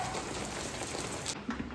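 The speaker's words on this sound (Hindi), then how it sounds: "और देखो कितनी तेज़ बारिश आ रही है।" Heavy monsoon rain pours down steadily as a dense, even hiss that fills the short stretch, with no voices over it.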